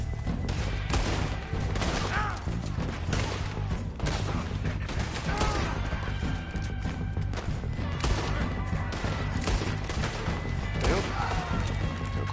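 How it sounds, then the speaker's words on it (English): Repeated gunfire rattles through a Red Dead Redemption 2 shootout, sharp shots cracking irregularly at close range, with someone talking over the bursts. "Oh, I'm getting shot at. He's shooting at me."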